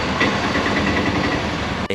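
A vehicle engine running steadily as a loud, close, continuous low rumble for two seconds, with a brief dip just before the end.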